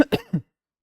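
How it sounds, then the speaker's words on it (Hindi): A person coughs twice in quick succession, a short harsh throat-clearing cough followed by a second lower one, close and alone with no talk. "मुझे खांसी हो गई है, मुझे कफ हो गया है"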